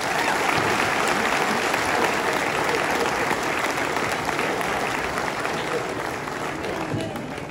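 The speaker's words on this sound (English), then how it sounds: "So one more round of applause for Coach Pehrson." Sustained applause from a crowd at a presentation honoring former Spring Creek wrestling coach Wade Pehrson, dense steady clapping filling the room at full volume for the whole stretch, easing only slightly at the end, with no voices rising above it.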